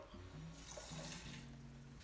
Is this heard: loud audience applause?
no